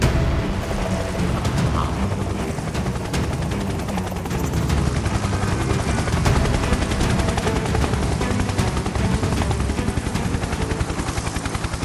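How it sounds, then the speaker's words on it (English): A helicopter comes in to a secured landing point during a ranger and K9 tracking operation, its loud, close rotor thumping as a rapid, continuous chop over a heavy engine roar. "Helicopter is coming in."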